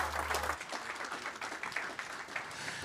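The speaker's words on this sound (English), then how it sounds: "Big hand of applause for Isha." Applause from a business event audience in Johannesburg for a speaker, soft and somewhat distant, a steady patter of many hands clapping after a brief low hum at the start.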